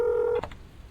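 A phone in a video game dials emergency services, giving one steady, clean dial tone that cuts off sharply, followed by a brief soft click and quiet hum.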